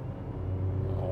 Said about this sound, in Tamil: ஒரு விசில் சவுண்டும் சேர்ந்தே வருது.